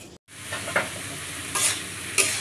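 Potatoes and pointed gourd frying in a pan on a kitchen stove, a steady close sizzle with a few brief stirring scrapes, no talking.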